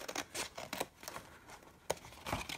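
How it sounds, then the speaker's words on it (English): Big scissors snip through a cardboard box in several short, crisp cuts spaced through the moment, close and moderately quiet, with no talking. "I'm going to use my big scissors"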